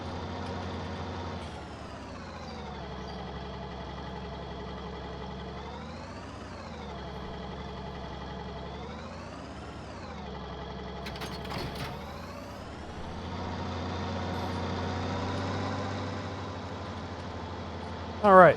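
Combine harvester engine in Farming Simulator 19, a steady droning motor hum that rises and falls in pitch as it drives, with a brief mechanical clatter midway and a short knock at the end.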